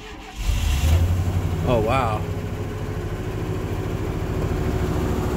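A freshly rebuilt Chevy 350 engine with new block and crank cranks and catches, then settles into a loud, steady, slightly high idle with a rhythmic pulse, while a person briefly exclaims over it.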